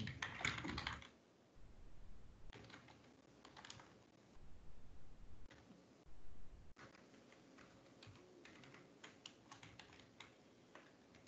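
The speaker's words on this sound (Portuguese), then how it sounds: "Vou digitar mesmo." Someone types on a computer keyboard during a live online class, with a quiet, uneven run of key taps in short bursts and pauses under a faint room background.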